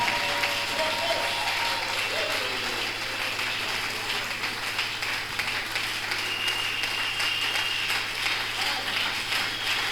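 A church congregation claps and applauds steadily during a French-language prayer gathering, a dense, sustained wash of hands filling the room with a faint voice underneath.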